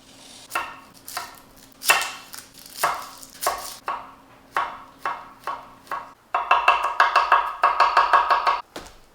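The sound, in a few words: knife dicing garlic, shallots and mushrooms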